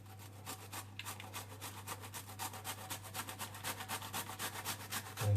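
Broccoli is grated by hand for a cauliflower pizza, producing a quick run of rhythmic rasping strokes against the grater, close, fairly quiet and steady, with a low hum underneath.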